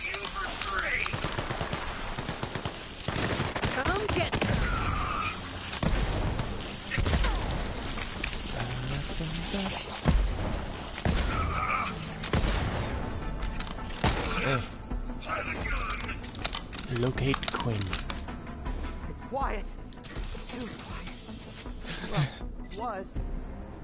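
Rapid gunfire from Borderlands 3 combat rattles through dense, busy game noise, with continuous bursts and impacts throughout and talk running over the top.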